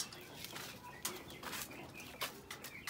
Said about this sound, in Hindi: वो एक कबूतर उड़ रहा है ऊपर, वो जा रहा है बस।